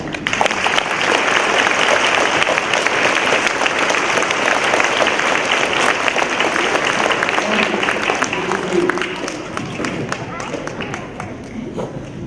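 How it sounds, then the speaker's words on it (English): An elementary school assembly applauds standing veterans on Veterans Day, a loud crowd of many hands clapping steadily, with a few thumps and murmuring voices as it gradually thins toward the end. "Would you give them a round of applause, please?"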